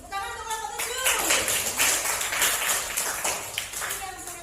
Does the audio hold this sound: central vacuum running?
no